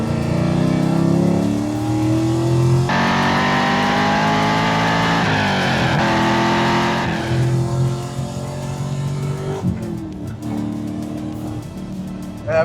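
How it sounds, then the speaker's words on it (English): A Nissan Gloria with a swapped LS V8 engine revs hard and close, its deep, loud muscle-car rumble rising and falling through several throttle blips, with no talking. "when you hear it, it sounds like an American muscle car"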